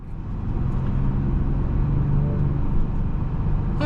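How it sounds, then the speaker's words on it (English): Steady engine and road rumble from a 2026 Genesis G70 Sport Prestige sedan cruising on the road, recorded from inside, continuous and fairly loud, with no talking. "we're out on the road in this 26 G70"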